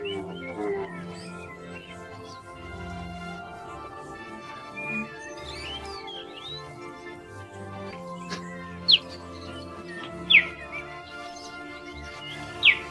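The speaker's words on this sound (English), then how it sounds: "They emit high-pitched, gentle sounds similar to bird chirps, allowing them to communicate with their mother without attracting the attention of other predators." Cheetah cubs give thin, high-pitched, bird-like chirps, a few sharp isolated calls late on, faint over a soft musical background.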